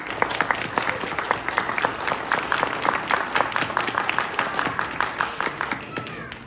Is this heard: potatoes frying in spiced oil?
no